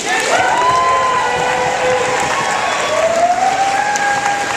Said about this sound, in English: So if everyone get a round of applause to DJ Mulaney.